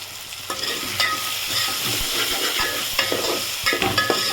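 Tomato and carrot cook in a pot for khichdi as a spoon stirs them. A hissing simmer runs under repeated scraping strokes, close and clear, with no voices.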